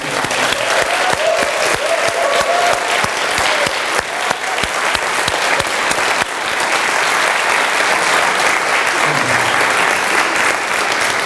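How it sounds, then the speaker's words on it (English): Steady, dense applause from a lecture audience fills the whole stretch at even loudness, with no talk over it. "So we also give a huge round of applause"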